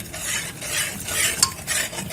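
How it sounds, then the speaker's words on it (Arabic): A spoon stirs jelly powder and sugar in water, scraping and clinking against the container in quick uneven strokes with one brighter tap, close and alone with no talk. "وهنقلبهم كويس"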